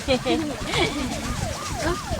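A police siren wailing nearby during a pedal boat outing at Matabungkay, rising and falling in repeated sweeping whoops, fairly loud with voices mixed in.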